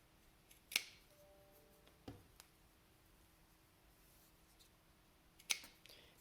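Scissors snipping fabric belt loops: two sharp, crisp cuts separated by a few seconds, with a soft tap between them, all close and quiet over a near-silent room.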